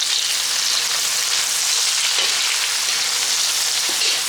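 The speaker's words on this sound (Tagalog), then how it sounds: "Mainit ang ating mantika, pwede na natin ilagay ang ating bawang." Garlic and onion sizzle in hot oil, a loud, close, unbroken crackling hiss that holds steady without any voices.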